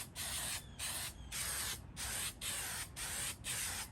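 An aerosol can sprays paint onto a part of a 1955 Westinghouse fan in about six close, steady hissing bursts, each under a second long, separated by short pauses.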